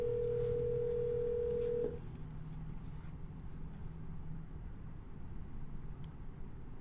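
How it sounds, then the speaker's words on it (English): An outbound cold call rings out through a phone: a steady ringback tone for about two seconds, then it cuts to a quiet line hiss. "We're going to double dial."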